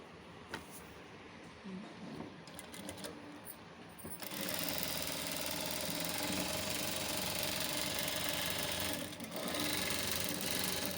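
Sewing machine stitching piping around a curved neckline: soft ticking and handling at first, then a steady, fast mechanical whir running for several seconds with a brief dip before resuming.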